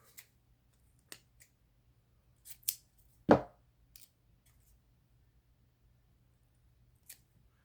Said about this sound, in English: now I'm going to need my scissors. We're going to cut off some painter's tape here.